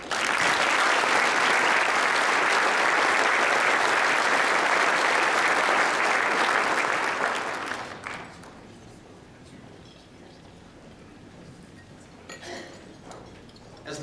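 Audience applause at a business awards ceremony for city design award recipients, dense clapping for about eight seconds that fades out, leaving quiet room tone with faint glass and cutlery clinks.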